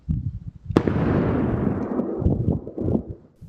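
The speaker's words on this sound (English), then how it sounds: "An explosion at the Givaudan plant that shook the Clifton neighborhood." Explosion at the Givaudan industrial plant in the Clifton neighborhood, a sudden sharp blast followed by a long rumbling roar and crackling debris that slowly fades, heavy and booming.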